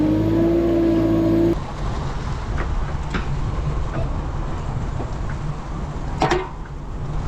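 A hedgecutter engine idles nearby with a tinny rattle, a loud continuous buzzing drone after a brief steady tone at the start, with a few sharp knocks scattered through it.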